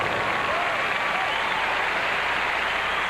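Crowd applauding a men's gymnastics event final at the 1990 Goodwill Games, a dense, steady wash of clapping from a large arena audience, sustained for about three seconds.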